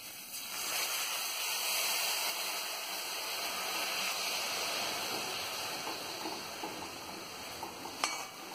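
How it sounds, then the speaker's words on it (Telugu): Water poured into a pan of jaggery makes a steady hiss and splash, a broad continuous pouring noise at close range that fades slightly, with a brief clink near the end. "అందులో నీళ్ళని పోసుకోవాలి"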